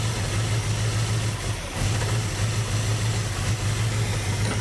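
An abandoned, crushed 1967 Buick GS 340 V8 idling, a loud steady low rumble with even pulsing and a brief dip partway through before settling back to a constant idle.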